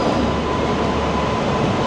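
Mandovi Express passenger train pulling into a rainy Konkan Railway station, a steady loud broadband rumble of rolling coaches and rail noise filling the whole clip with no voices.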